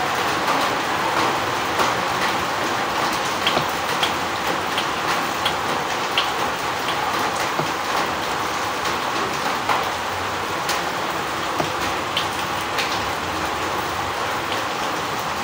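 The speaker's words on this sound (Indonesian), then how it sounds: "rerintian air hujan ya teman-teman, bisa untuk relaksasi pikiran ini" Heavy rain falls steadily in a forest, a dense, even patter of drops on surfaces that continues without pause, with no voices.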